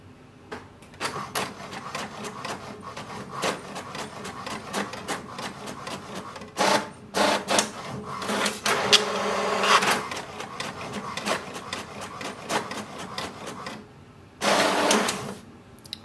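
An HP DeskJet 4155e inkjet printer runs a page through, with steady mechanical whirring, sliding carriage passes and a few louder bursts near the middle and end.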